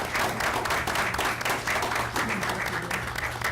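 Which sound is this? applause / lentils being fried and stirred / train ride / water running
applause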